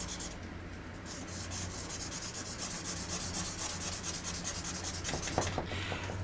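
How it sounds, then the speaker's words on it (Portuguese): Eraser rubbing on drawing paper to lift highlights in a realistic drawing, a close, quiet, steady scrubbing with rapid back-and-forth strokes and no voices. "Então eu vou pegar a minha borracha monozero e vou fazer o brilho"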